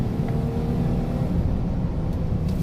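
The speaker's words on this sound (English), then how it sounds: "You can see that the transmission shifts pretty quickly." A 2016 GMC Yukon SLE accelerates on the road with its transmission shifting, heard from inside as a steady low engine and road rumble that holds loud and even throughout.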